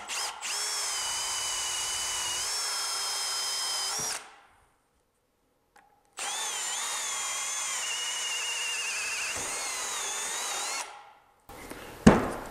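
A power drill bores a hole for a newel post, a loud, close, high whine in two sustained bursts separated by silence, with pitch wavering under load. It ends with short clattering handling sounds.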